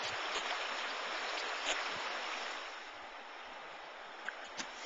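Broad steady rushing of the Russian River at Cooper Landing, a continuous wash of flowing water, moderately loud and near, fading slightly toward the end with a couple of small knocks.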